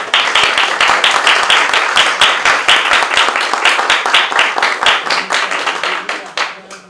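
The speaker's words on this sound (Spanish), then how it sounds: "para quien pido un fuerte aplauso, por favor" An audience at a student research journal launch gives a school director a round of applause, crisp individual hand claps in a fast uneven rhythm from a modest crowd, close and loud, thinning out near the end.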